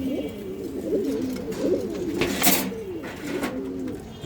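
Damascene pigeons, including black Damascene pairs, on a pigeon farm in Mirpur, Dhaka, cooing steadily and close by in repeated rolling phrases, with a brief noisy burst partway through.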